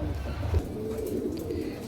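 Local Bangladeshi Kaldom pigeons and a newly bought breeding pair give soft, low cooing nearby, a short steady murmur beneath a quiet background.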